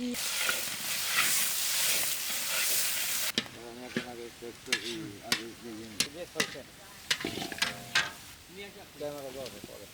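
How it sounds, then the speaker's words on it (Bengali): Potatoes frying in oil in a village kitchen for carp curry: a loud, steady sizzle for about three seconds, then quieter frying with someone talking over it. "আলু কটা ভাজিয়ে দিচ্ছি"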